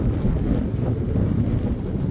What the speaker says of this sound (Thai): แต่ว่าก็สิมีเสียงลมแน่เด้อครับ